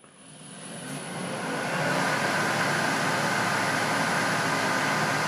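Jet-16 milling machine spindle spinning up after switch-on, a steady broadband whir with a high whine that builds over the first two seconds and then holds loud and even.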